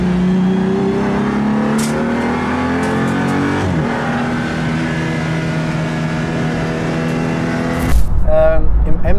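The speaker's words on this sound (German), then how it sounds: "Ich fahre jetzt hier diesen BMW M235i mit 330 PS." A BMW M235i with 330 hp drives and revs, its engine droning loudly from inside the cabin with rising and falling pitch through gear changes, then a sharp burst of engine noise near the end.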